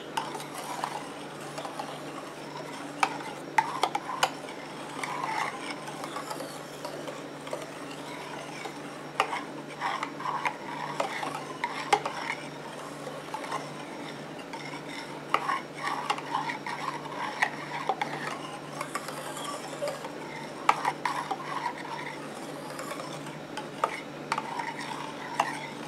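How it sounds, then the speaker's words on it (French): Viscous homemade repairing liquid shampoo is stirred in a container, giving a steady run of soft clinks and ticking taps, fairly close and moderately quiet. "Je mélange."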